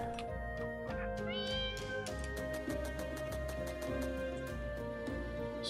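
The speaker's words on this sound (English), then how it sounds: "Meow, meow, meow." A cat meows repeatedly in the video game Catmaze, over steady sustained game music that plays throughout.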